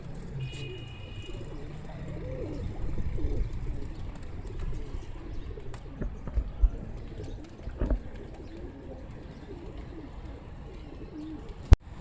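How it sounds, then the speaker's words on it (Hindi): Many pigeons cooing continuously at a low pitch, a dense murmuring flock close by, with occasional chirps and a sharp knock near the end. "बाकी हमारे कबूतर हैं सारे।"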